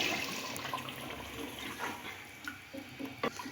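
Water pours into a cooking pot of potatoes with a steady, splashy rush that gurgles and tapers off into a few drips and clinks near the end.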